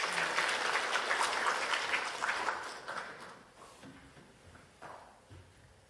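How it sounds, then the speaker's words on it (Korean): A church congregation applauds during a Sunday worship service, a broad wash of clapping that is loud at first and then thins out and fades over several seconds. "우리 박수로 한번 축복해 주시기 바랍니다"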